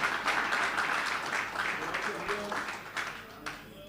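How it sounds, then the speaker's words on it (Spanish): A church congregation applauds a group of women teachers at a service, steady mid-distance clapping from a crowd with voices mixed in, tapering toward the end. "aplauso para el grupo de las maestras"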